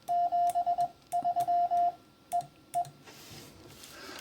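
Morse code CW tones sending 73 followed by a single dit: a clear steady beeping tone in short and long pulses, grouped in two bursts then two isolated blips, over faint background hiss.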